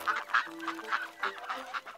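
Ducks swimming on a pond call out in a run of repeated honking, quacking cries, close and fairly loud, with short pauses between bursts.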